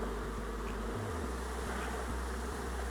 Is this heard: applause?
no